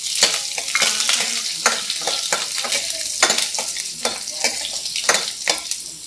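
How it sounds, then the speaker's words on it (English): Shallots, dry red chili and curry leaves frying in oil for a Kerala green gram curry, a loud continuous sizzle broken by quick repeated stirring scrapes and clacks, with no one speaking. "Let's add the shallots, dry red chili, and the curry leaves."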